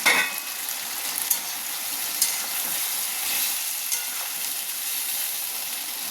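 Chopped tomatoes sizzle loudly as they sauté with masala in a hot pan, a dense continuous crackle broken by occasional spoon clinks and stirs, close up with no voices.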